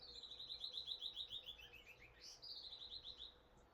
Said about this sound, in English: my voice gets drowned out by birds